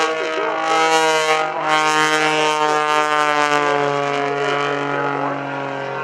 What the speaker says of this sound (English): Now that's with John Klatt flying the Panzl S330